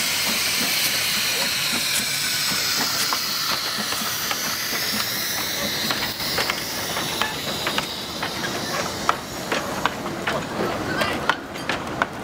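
A steam train pulls away with a steady loud hiss of steam and growing rhythmic clanks and puffs of rolling wheels. Voices are faint in the background.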